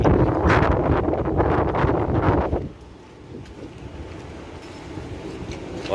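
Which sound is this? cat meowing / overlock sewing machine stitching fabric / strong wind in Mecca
strong wind in Mecca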